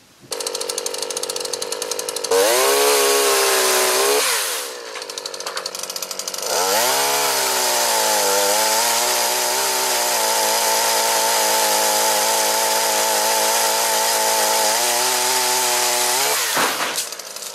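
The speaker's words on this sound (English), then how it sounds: "It's an extendable pole chainsaw, which is simply a small chainsaw on the end of a pole" A small chainsaw on an extendable pole buzzes loudly and steadily while cutting branches, revving up and down across several long bursts with brief pauses between cuts.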